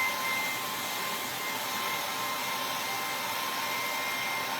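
A hair dryer blows steadily to dry paint on a stencil, a loud continuous whooshing roar close by that lasts throughout with no speech.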